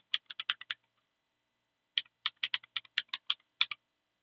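Quiet, close computer keyboard typing as an email address is entered: a quick run of about six keystrokes, a pause of over a second, then a longer rapid burst of a dozen or so clicks.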